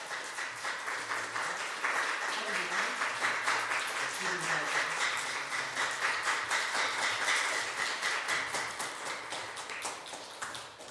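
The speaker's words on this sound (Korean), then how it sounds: "우리 이 3명을 통해서 우리 격려하는 박수 보내겠습니다." Small church congregation at a Sunday worship service giving steady, soft applause that stays fairly even for about eleven seconds, quiet and somewhat distant, with faint voices mixed in.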